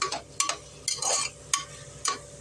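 Tomatoes sautéing in a pan with garlic for bitter gourd kootu, a ladle scraping and stirring in several rhythmic strokes over a soft steady sizzle, close and alone without talk.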